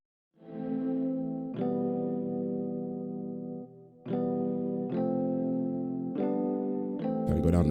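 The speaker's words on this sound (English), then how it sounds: "I'm gonna go with chorus space" Sustained synth chords from Roland Zenology with a chorus space reverb effect, several held notes changing pitch in separate stages, each ringing full and shimmering before the next one starts, clean with no voices.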